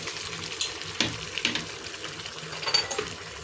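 Rice and freshly added water are stirred in a pot: faint, scattered scraping and sloshing clicks come at an irregular pace, quiet and close, with no talking.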